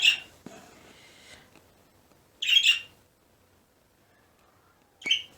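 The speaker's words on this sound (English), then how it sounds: "with the birds making all that noise" Bursts of loud, harsh bird calls close by, three separate outbursts of squawking and chirping with quiet gaps between them.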